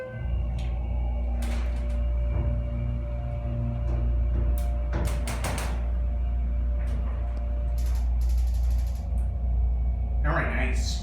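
A new Schindler 330A hydraulic elevator in a Restoration Hardware store in Long Beach, California opens its doors with several short sliding knocks and rattles over a steady low hum, with faint voices in the background.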